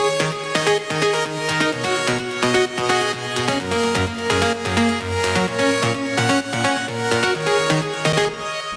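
A remix layers a steady synth arpeggio with a top melody over it, producing a dense, bright electronic texture with a pulsing rhythm that plays continuously and evenly without any voices.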